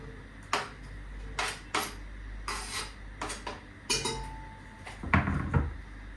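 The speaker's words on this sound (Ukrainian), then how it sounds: "Я зразу висипаю все в каструлю." Scattered clinks and clatters ring out as okroshka ingredients drop into a metal pot, with a heavier rattling tumble near the end.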